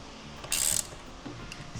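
A ratchet clicks briefly, tightening a bolt on a vehicle's rear leaf spring suspension in a hot garage, a short close burst of rapid clicks followed by a few faint metallic taps.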